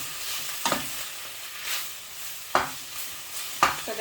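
Vegetables and prawns stir-fried in a pan with pak choy, a steady sizzle broken by three sharp utensil scrapes and tosses against the pan, close and clear with no talking.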